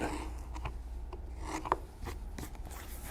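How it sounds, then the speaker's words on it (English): An edge beveler scrapes along the top edge of a leather pocket on a saddlebag, a series of short rasping strokes close up at a quiet level, one sharp tick in the middle. "now I will take my edge beveler and bevel the top of the pocket"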